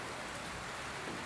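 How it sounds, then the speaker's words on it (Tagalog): Heavy rain falls in a dense, steady hiss with no breaks, soft and distant, with no voices. "malakas na ulan, hangin"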